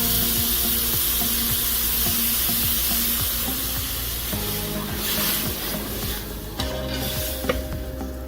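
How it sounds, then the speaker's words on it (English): Rice frying in a little oil with coconut cream, a steady close sizzle with stirring scrapes running throughout, loud and continuous with no talking. "we fried the rice around 3 to 6 minutes. Just make it fry up in a little oil."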